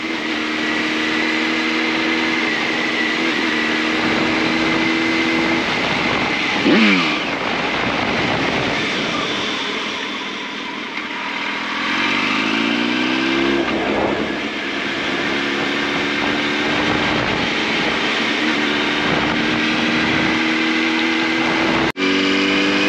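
A new motorcycle's engine drones steadily while riding on village roads in Hollola, Finland, its pitch rising and falling through gear changes, with a brief sharp click near the end.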